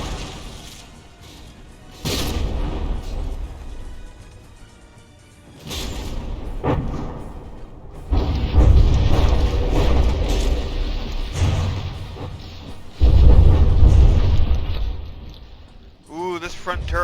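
Battleship combat in From the Depths: heavy shell impacts and booming thuds arrive in loud bursts separated by quieter rumbling stretches, with a brief warbling mechanical whine near the end.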